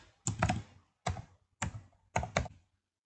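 Python code being typed on a computer keyboard in short bursts of crisp key taps, four separate clusters with brief pauses between them, close and fairly quiet with no talking.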